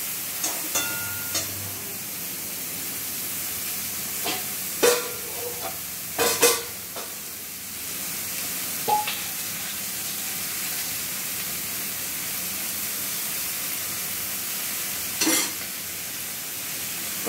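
Okra fries in a covered kadai with a steady, soft sizzle throughout, broken by a few sharp clatters and pops, with no talking.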